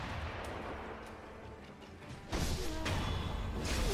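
A shotgun-wielding enemy fires in Sekiro: Shadows Die Twice. Sharp booming blasts land amid game noise, the loudest near the end, followed by a heavy rumbling crash, with no talking.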